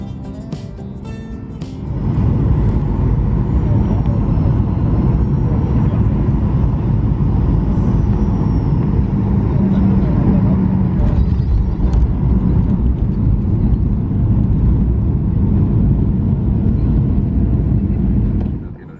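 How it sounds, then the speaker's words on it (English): Inside a Norwegian airliner descending toward London Gatwick, a loud, steady low cabin engine roar swells in after a brief quieter moment and continues evenly until fading at the very end, with a voice faintly present. "As we continued our descent into London Gatwick,"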